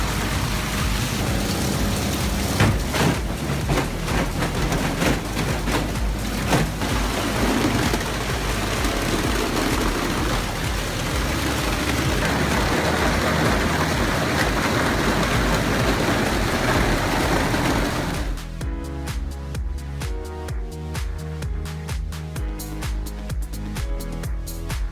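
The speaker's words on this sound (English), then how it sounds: "Wyma WLK-10 machine tests plastic shredding with a powerful 90 kilowatts motor, 120 horsepower." A Wyma WLK-10 shredder with a 90 kW motor grinds plastic in a loud, dense, continuous roar with crunching texture, changing to a choppier, more intermittent churn near the end.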